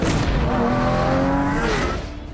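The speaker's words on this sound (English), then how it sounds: "The Lamborghini, then." A Lamborghini tearing fast along real Chicago streets during a Dark Knight film shoot, its loud engine roaring steadily with rising and falling tones and a hint of tire noise, close and continuous before easing off at the end.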